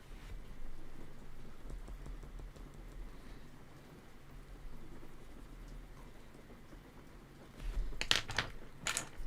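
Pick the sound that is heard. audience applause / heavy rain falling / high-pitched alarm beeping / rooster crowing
heavy rain falling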